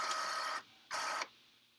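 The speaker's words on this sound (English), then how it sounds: "Now my printer's going off just because it feels like it." An inkjet-style printer starting up by itself in a quiet room, giving two mechanical whirring passes, a longer one and then a shorter one, with silence in between and after. The sound is close and moderately loud.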